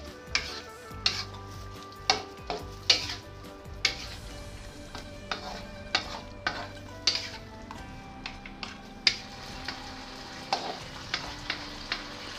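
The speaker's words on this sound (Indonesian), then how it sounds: "Diaduk rata." Long beans and tofu sizzle in a pan while a utensil stirs them with regular scraping and clinking strokes, roughly one every second, over a steady frying hiss.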